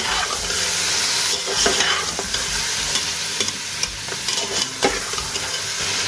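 Chopped onions fry and sizzle steadily in a hot pan for a black pepper mutton dish. A spoon repeatedly scrapes and stirs against the pan, loud and close, with no talking.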